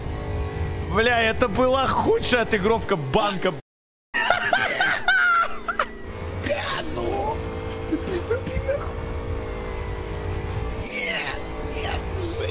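A car engine in the military video game Arma 3 drones and revs in a steady hum beneath several voices talking and laughing loudly. The sound briefly drops out before the vehicle pulls away.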